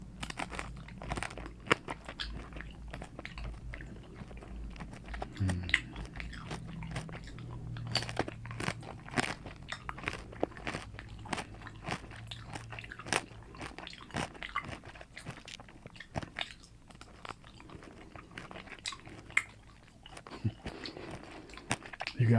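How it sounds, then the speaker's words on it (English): Close-up bites and chewing of crunchy bacon give sharp, irregular crackling crunches that repeat quietly and intimately, with mouth sounds in between and no talk. "let's try a piece of this crunchy bacon here"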